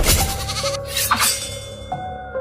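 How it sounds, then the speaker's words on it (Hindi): A goat screams loudly in a 2D horror animation, a strained, wavering bleat close up, then a shorter cry near the end over a dense layer of background sound. "कुछ देर बाद बकरी की जोरदार चीख वहां सुनाई दी"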